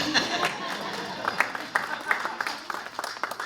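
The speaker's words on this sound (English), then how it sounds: "you can clap for your dad" A few people clap in scattered, light bursts, with voices murmuring underneath.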